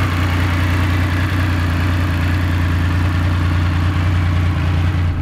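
A Triumph Rocket 3 motorcycle engine idles with a steady, deep rumble, loud and close, running continuously without revving.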